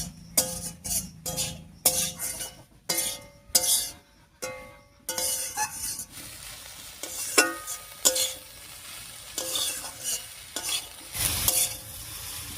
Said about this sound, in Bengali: আলুর ওপরে শাকটা দিয়ে একটু নাড়িয়ে নিয়েছি।